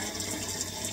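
Rice being washed in water, a continuous soft running-water and swishing sound like a tap filling a bowl, fairly quiet and steady throughout, with no one speaking.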